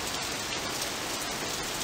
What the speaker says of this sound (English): When it sounds like it's raining in a movie,